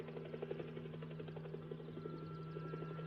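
A helicopter's steady rotor chop pulses throughout with a low engine drone, fairly distant and unbroken, with no voices.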